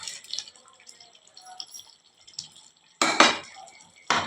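Okra curry with masala and ground coconut-cumin-chili-yogurt paste being stirred in a pot: two loud bursts of scraping, clattering utensil-on-metal noise late on, after quieter scattered clinks and faint kitchen sounds.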